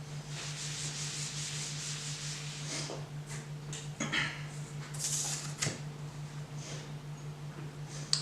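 A StatTrak Gut Knife blade is stropped on a sheet of cardboard, making steady dry rubbing strokes up close, with a few louder scraping swipes midway and no talking.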